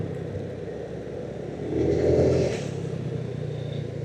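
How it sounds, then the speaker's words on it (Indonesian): A car on a road easing off speed, its engine rumble rising briefly and then settling into a steady drone, heard from inside the vehicle with no one talking. "Tiba-tiba melambat nih mobil."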